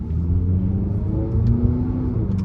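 Acura ILX with a dual-clutch transmission pulling hard in sport mode, a steady mid-pitched engine drone with rising harmonic tones as revs climb, continuous and close with no talk over it.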